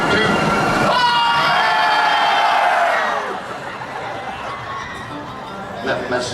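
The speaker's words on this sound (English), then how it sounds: "Hold on, let's scream at this roller coaster." Crowd screaming together at a passing roller coaster at Knott's, a loud sustained burst of shrieks and yells for about three seconds, then fading into quieter crowd murmur.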